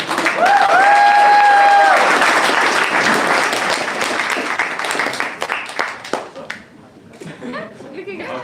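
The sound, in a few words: audience applause at a startup pitch event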